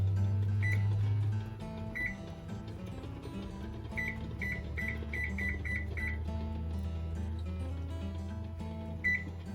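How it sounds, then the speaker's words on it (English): A kitchen timer chirps a series of short, high electronic beeps as it is set, sitting over a steady low hum from an electric stove in the kitchen. "Now I'm going to set my timer for 12 minutes."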